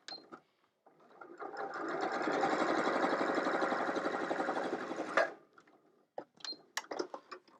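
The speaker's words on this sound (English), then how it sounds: "so now I'm stitching on the line." A sewing machine running a straight stitch along a marked line makes a steady, close mechanical whir for several seconds. It starts and stops cleanly and is followed by a few light clicks and handling sounds.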